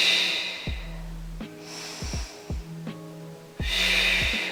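Heavy breaths drawn in and pushed out during a leg exercise done with a slight circling movement, several separate breaths with short pauses between, close and fairly loud.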